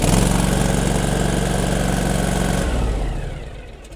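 Engine of a Toro GrandStand 48-inch stand-on mower chugs loudly up close for under three seconds, then cuts out and fades to quiet.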